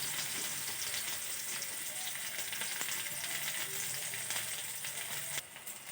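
Chopped onion and green chili sizzle steadily in hot oil in a home kitchen, a dense continuous crackle from start to finish with a brief shift near the end, and no talking.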